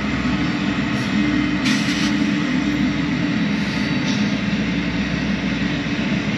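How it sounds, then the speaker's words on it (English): A passing train rumbles steadily at a distance outdoors beside a truck stop, a broad continuous roar with a few brief higher tones over it and no talking. "Y'all hear the train over here, Bobby?"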